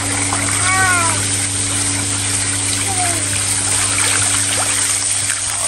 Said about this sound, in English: You sit in the bubbles, it gives you a massage.